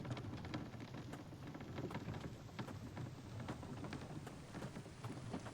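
Rain falls in a survival video game, a steady dense patter with scattered sharper drops and a low rumble underneath, even and moderately quiet with no voices.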